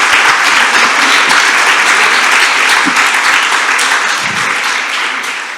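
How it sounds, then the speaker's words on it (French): Audience applause in a conference hall for the men in the room at an official opening event, a dense, steady wash of clapping throughout that thins slightly toward the end. "on peut les applaudir ce matin, qui sont parmi nous"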